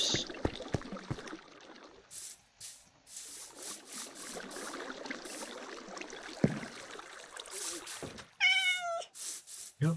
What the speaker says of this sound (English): Yep, that's a cat.